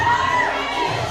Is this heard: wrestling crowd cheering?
yes